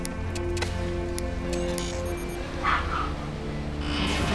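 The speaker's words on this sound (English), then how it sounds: "Stop barking!" Dogs barking: short, sharp yips over a steady droning tonal backdrop, fairly faint and brief.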